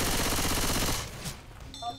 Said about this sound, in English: Shooting. I'm shooting at this point.